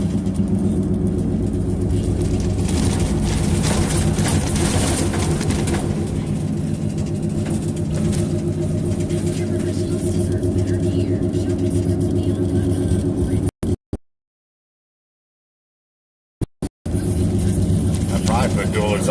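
A cargo van with a 4.3-litre engine drives along with a steady, low engine drone and road rumble heard from inside, a person talking over it, and a brief dropout near the end.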